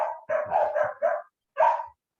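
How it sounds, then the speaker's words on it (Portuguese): Pet dogs barking at home, a quick run of four or five sharp barks, a short pause, then one more bark, fairly close and clear with no other sound around them. "meus cachorros latindo"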